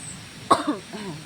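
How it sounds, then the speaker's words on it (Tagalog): A single sharp cough, close and loud, followed by a brief throat-clearing sound amid quiet background. "Yun, inuubo na ako."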